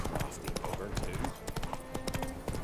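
Horse hooves clopping steadily while riding in The Witcher 3 video game, a continuous mid-level trot under constant game ambience and music, with someone talking over it.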